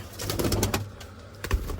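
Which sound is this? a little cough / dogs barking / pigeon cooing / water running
pigeon cooing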